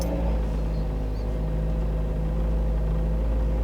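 A car engine just started, settling into a low, steady idle rumble, close and even with no talking.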